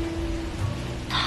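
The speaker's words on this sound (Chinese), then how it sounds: "哟，怎么下雨了？" Steady rain falls outdoors as a soft, even hiss for a brief moment, with no talking.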